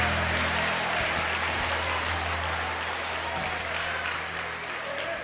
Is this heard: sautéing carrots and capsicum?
no